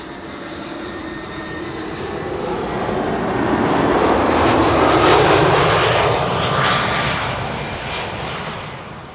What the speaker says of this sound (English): flight 2903, arriving from Palma de Mallorca. It's an A320.